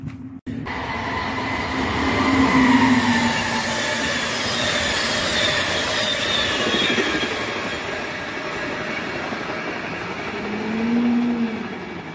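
A train engine rumbles past close by in a loud, continuous roar of rolling wheels and rail noise. It swells twice as the cars go by.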